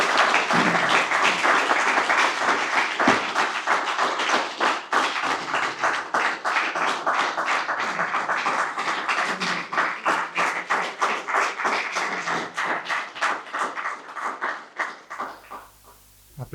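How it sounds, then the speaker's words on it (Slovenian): An audience breaks into loud, sustained applause after a lecture at an evening talk, dense clapping holding steady before thinning into scattered claps and fading out near the end. "Aplavz veliko pove"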